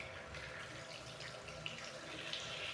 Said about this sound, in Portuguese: Você joga a água para baixo para não cair dentro da orelha.